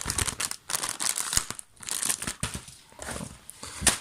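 Packaging around a small box for a cheap wireless Bluetooth earphone set from AliExpress is crumpled and torn open, with loud, irregular crinkling and ripping bursts broken by short pauses, close to the listener.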